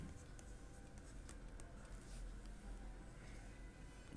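Pen or pencil scratching across paper during a Class 5 maths lesson, with faint, irregular strokes and small taps close by in a quiet room.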